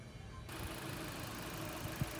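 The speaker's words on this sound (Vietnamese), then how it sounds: "máy nổ nó cực êm, đấy các bạn cùng xem nhá" The 1.8-litre petrol engine of a 2011 Chevrolet Orlando with manual transmission idles at a steady low hum with even, smooth vibration, heard up close with no talking.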